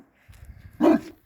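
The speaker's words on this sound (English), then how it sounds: "That's the neighbor's dog." A neighbor's dog behind a fence gives one short, loud bark after a stretch of quiet low rumble. It sounds close by, with no talking.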